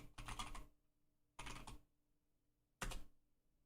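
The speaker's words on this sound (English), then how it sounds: "Let me try it by typing it in chat." Three short bursts of typing on a computer keyboard, each lasting about half a second with quiet gaps between them, close and fairly soft with no talking.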